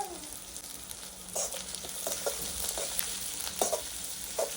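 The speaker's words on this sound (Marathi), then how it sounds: "आता आपण याच्यामध्ये दहा ते पंधरा लसणाच्या पाकळ्या देखील घालून घेऊया" Garlic cloves fry in a pan on a wood-fired stove, a steady close sizzle with occasional scraping and stirring clicks throughout, no voices.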